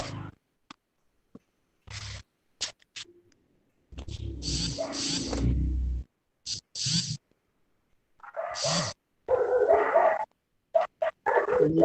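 A dog barks and whimpers in repeated bursts near a microphone during an online lecture, yips and whines scattered over about twelve seconds with silent gaps between them.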